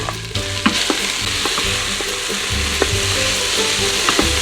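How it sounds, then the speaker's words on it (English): Onions sautéing in hot olive oil in an Instant Pot, a steady loud sizzle with scattered clicks and scrapes of stirring throughout. "When the oil is hot, we'll add the onions and we'll saute them until they're fragrant and golden."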